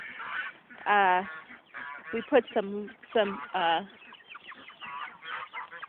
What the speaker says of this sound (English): These are some of our lovely ducks and chickens.